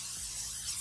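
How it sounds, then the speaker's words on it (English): A short hiss of olive oil spray misted into the bottom of a baking dish for a salmon fillet, one brief soft burst heard alone. "So I'm going to take some olive oil spray. I'm going to put it at the bottom."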